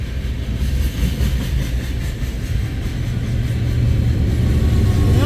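A CN freight train with DPU locomotives rolls past at Ladysmith, Wisconsin, a steady, loud low rumble of rail cars that continues without a break and builds slightly toward the end.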